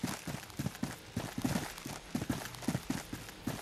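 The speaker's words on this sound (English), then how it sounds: "how to create footstep sound effects" Footsteps in Unreal Engine 5: a steady run of rhythmic thuds and scuffs, about three per second, near and moderately loud over a constant hiss of background noise.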